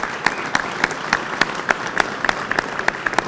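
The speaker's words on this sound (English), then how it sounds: "Give him a round of applause." A crowd at a political rally on bail reform applauds a county sheriff, a steady patter of many hands with a few sharp, distinct claps standing out close by, with no speech over it.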